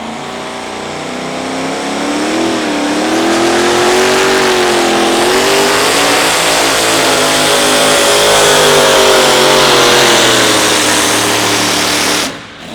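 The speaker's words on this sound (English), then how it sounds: "We're an easy throttle for a little ways, and then it's wide open." A two-wheel-drive outlaw pulling truck at a Friday night truck pull in Wisner, Nebraska, its engine building from easy throttle to a loud, sustained wide-open roar with rising and wavering pitch, then cutting off near the end.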